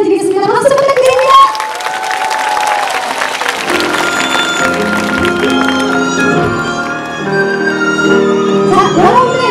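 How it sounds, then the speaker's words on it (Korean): An audience applauds at a folk dance performance at the Korean Folk Village. Steady, close clapping from a crowd runs throughout, joined by scattered cheers and a few voices, with a brief tonal cue near the start. "박수 부탁드립니다"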